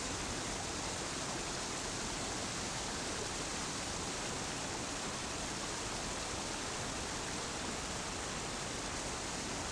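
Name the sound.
rushing river water during team river crossing in Patagonia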